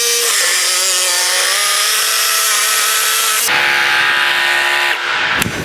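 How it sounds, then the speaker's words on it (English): A power saw fitted with a Bosch 10-inch blade rips steadily through 6x6 timber, a loud continuous motor whine with shifting pitch, then a rougher tone change near the end as the cut finishes. "6x6 with a Bosch 10-inch blade, and we're just going to time these through the cut"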